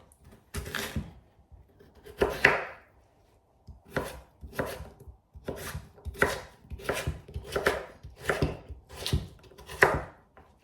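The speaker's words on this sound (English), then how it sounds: "we're going to chop our potato and cabbage" A knife chops potato into small cubes on a board, making a quick series of sharp, close knocks in short bursts separated by brief pauses, with no talking.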